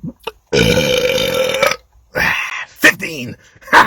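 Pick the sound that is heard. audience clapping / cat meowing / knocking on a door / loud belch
loud belch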